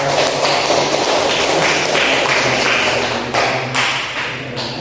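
A classroom audience applauds after a student presentation in a lecture on Islamic civilisation. Dense, close clapping runs steadily for several seconds, then thins and fades toward the end, with no talking.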